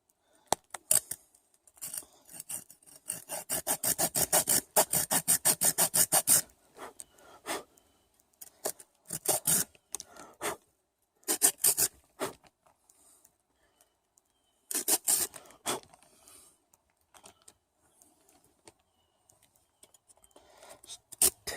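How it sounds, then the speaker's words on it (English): Folding saw cutting through a wooden knot, close rasping strokes in fast rhythmic bursts separated by pauses, with a few isolated scrapes as the blade is repositioned. "I'm going to cut it with the saw"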